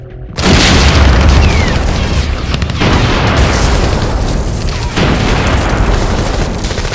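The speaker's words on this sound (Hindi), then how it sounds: "गाजा इस्लामिक यूनिवर्सिटी कैंपस का आसमान बम धमाकों के साथ धूल के गुबार से भर गया।" Bomb explosions over the Islamic University campus in Gaza: a loud, deep blast followed by a long rumbling roar with further booming surges, heard alone.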